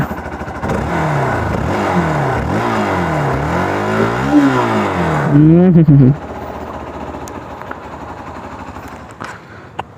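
A Vini Rover motorcycle engine revs up and down several times, loud and close, then drops back to a steadier idle partway through, with only a brief murmured voice.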